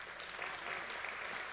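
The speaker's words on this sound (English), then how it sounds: "So, Cheryl, can you give them a round of applause?" An audience applauds steadily at a ceremony, a dense, even patter of clapping that is fairly faint and distant throughout.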